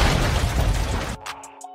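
Vehicle explosion in the video game Call of Duty, a loud, dense burst of noise that cuts off abruptly into quieter ringing debris and faint pops.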